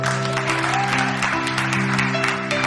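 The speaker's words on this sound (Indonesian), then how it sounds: "Ayo kita kasih dia aplaus" A church congregation claps steadily in a large room, a dense and continuous round of applause with a faint hum of music or voices beneath it.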